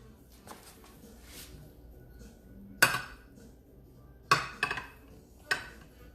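Spoon scraping and knocking against a pot while digging out Cajun crawfish fettuccine, a few sharp metallic clanks and scrapes spaced out over quiet background, close by.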